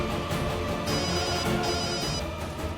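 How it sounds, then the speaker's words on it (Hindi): A telephone rings in a domestic Hindi TV drama scene, an electronic ringtone sustained throughout over background music, fairly loud and continuous. "किसका फोन है?"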